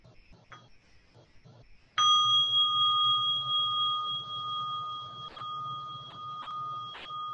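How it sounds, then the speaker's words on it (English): A meditation bell at a mindfulness session struck once after a quiet pause, a clear bright ring that sustains and slowly fades over several seconds while faint room sounds continue. "allowing the sound of this bell to bring you back to a comfortable sitting posture"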